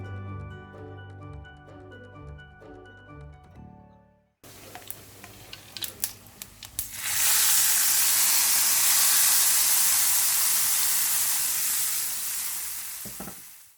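Cumin seeds and thick red chilies tempering in hot oil, a loud steady sizzle and hiss that erupts after a few clatters and holds for several seconds, close up with no talking.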